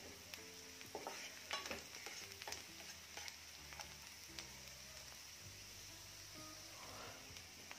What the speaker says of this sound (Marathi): तर हे पहा, कांदा छान परतलेला आहे।